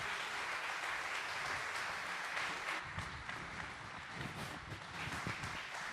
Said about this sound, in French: on peut leur réserver un tonnerre d'applaudissements